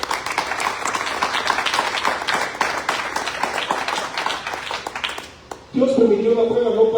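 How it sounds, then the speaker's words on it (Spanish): Congregation applause in a church service, a dense steady patter of many hands clapping for several seconds, fading out before a preacher's voice resumes over it. "Un aplauso para nuestro Dios."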